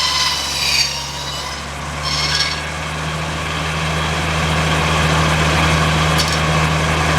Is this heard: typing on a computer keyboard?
no